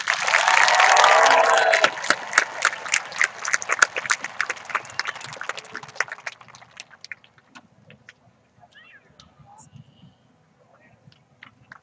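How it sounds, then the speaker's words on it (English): Applause at a 2022 Lake Havasu High School graduation ceremony, a loud dense crowd clapping that thins after a few seconds into scattered individual claps and fades out, with faint voices underneath. "Please give these outstanding young men and women a round of applause"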